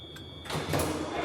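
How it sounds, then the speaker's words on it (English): A door opens after the smoke clears: a soft click near the start, then a broad rushing slide and swell of air as the door swings open, close by with no voices. "Open the door."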